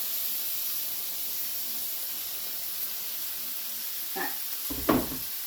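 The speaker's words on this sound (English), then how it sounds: "I'm just going to put all this into the frying pan. All these mushrooms, garlic, butter, and tomatoes." Mushrooms, garlic, butter and tomatoes in a frying pan give a soft, steady sizzle, with a couple of brief clatters near the end and a short spoken remark.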